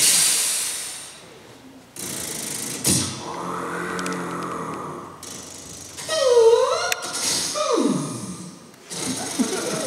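Several rabbit noises imitated with a human voice: a gravelly, ratchet-like clicking rattle, then a sharp squeal and a short falling vocal burst, made close up with brief pauses between sounds.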